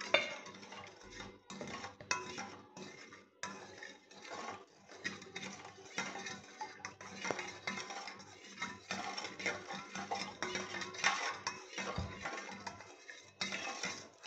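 Spoon clinking and scraping in a glass as half a spoon of black salt is stirred into a chilled summer drink, a steady run of light metallic taps and swirls, close up with no talking.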